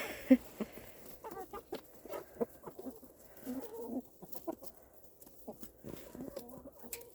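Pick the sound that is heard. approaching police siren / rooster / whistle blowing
rooster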